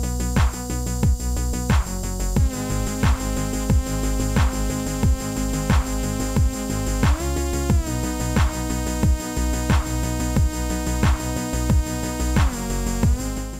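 Layered synth parts recreating the sound of a song, with a steady pulsing bass and bright stacked chords that stab in a regular rhythm, loud and continuous with no voices.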